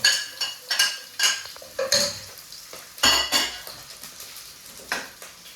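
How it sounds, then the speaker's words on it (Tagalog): Onion and garlic sautéing in a pan for sardines with vermicelli, heard as a series of sharp stirring scrapes and clinks of a utensil against the pan over a faint sizzle, with no talking. "Gisa muna natin ang sibuyas. Bawang."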